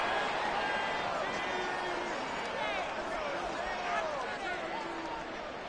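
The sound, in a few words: crowd roaring in EA Sports football video game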